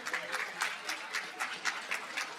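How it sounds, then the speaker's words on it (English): Audience applause for a student jazz ensemble at a school district athletic hall of fame induction ceremony, fairly faint and distant, with rhythmic pulses of clapping throughout. "how about a round of applause for the Skyline Jazz Ensemble?"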